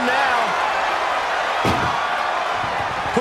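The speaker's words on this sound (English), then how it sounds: "They slam the door" An ambulance door is slammed shut in the WWE 2K25 wrestling game during an ambulance match, producing one sharp bang midway through, with crowd noise and commentary running underneath.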